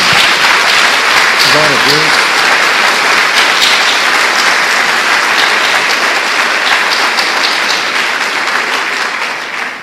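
Church congregation breaks into full, loud applause that holds steady for about ten seconds, a dense wash of clapping with a voice speaking briefly near the start.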